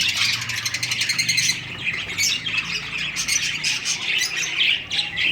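Birds carrying date palm twigs to build nests chirp and squawk close by, a dense, busy chatter of overlapping calls with no talking.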